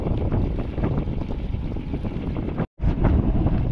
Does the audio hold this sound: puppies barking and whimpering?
no